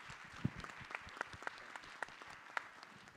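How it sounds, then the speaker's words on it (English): Audience at a talk applauds, scattered and sparse claps at moderate distance, thin and brief rather than a full roar. "if I may ask everyone to kind of give ITHRA, its team, a big hand of applause"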